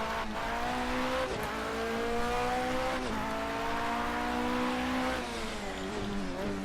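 Porsche 919 Hybrid race car in Project CARS 2, its engine droning loud and steady with rising and falling pitch through gear changes, close and continuous with a brief tire squeal.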